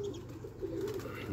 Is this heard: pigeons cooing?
yes